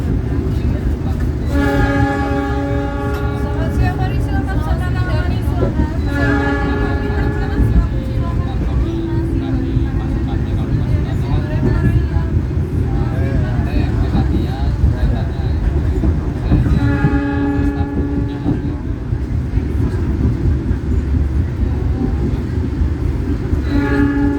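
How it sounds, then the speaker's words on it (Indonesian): KA Jayabaya passenger train rolling into Mawang station on the Malang–Surabaya line, a steady rumble of wheels and carriage noise with repeated horn-like tonal blasts near the start and again later, heard continuously with voices in the background. "kita persiapan masuk stasiun Mawang dan akan berhenti sekitar 4 menit untuk naik turun penumpang"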